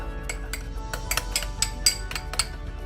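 Buffalo sauce and honey being mixed in a bowl, a steady series of light clinks and taps of a utensil against the bowl in an irregular rhythm, close and clear with no talking.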